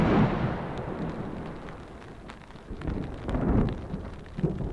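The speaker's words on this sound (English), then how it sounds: "All the while, I've been hearing thunder" Distant thunder rumbles low and drawn out during a rainstorm at a wilderness campsite, swelling and fading over steady rain noise with no talking.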